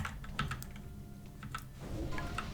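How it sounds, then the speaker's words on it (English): Fingers rapidly slap a computer keyboard during a game, a quick irregular stream of close, crisp key clacks at moderate loudness, alone without talk. "My fingers are just doing this, alright? I'm just like slapping the keyboard."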